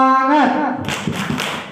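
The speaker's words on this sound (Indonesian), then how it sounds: "Tepuk semangat." A group at a positive-culture school seminar claps a short spirit cheer, a burst of many hands striking together in quick rhythm right after a brief voice.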